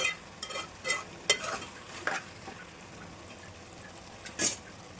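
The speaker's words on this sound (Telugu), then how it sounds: "వాటర్ ఎనిగిపోయే వరకు ఫ్రై చేసుకుంటూ ఉండాలి." Chicken stir-frying in a pan for fried chicken biryani, with a soft steady sizzle under scattered scrapes and clinks of a spatula stirring against the pan.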